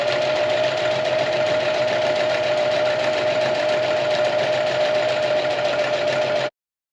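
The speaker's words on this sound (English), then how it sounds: "I'm gonna break out the little Mighty Singer here for this velvet." A small Mighty Singer sewing machine stitches velvet fabric in a continuous, even, rapid whir with fast mechanical ticking, loud and close, running about six seconds before stopping abruptly.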